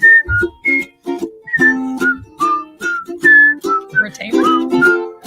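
A person whistles a quick, bright melody of short clear notes, close and loud, with a few breathy breaks between phrases.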